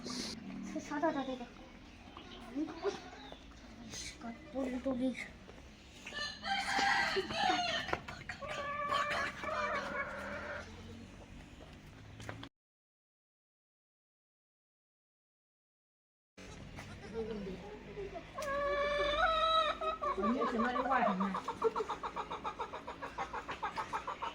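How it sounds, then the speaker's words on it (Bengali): Desi, farm and Sonali chickens cluck and squawk in bursts close by, with other farmyard noise and a short stretch of silence partway through. "আমাদের অনেকগুলো মুরগি আছে দেশি মুরগি ফার্মি মুরগি সোনালি মুরগি"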